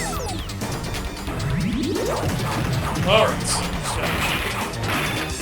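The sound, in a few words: smashing a robotic suit in The Simpsons Arcade Game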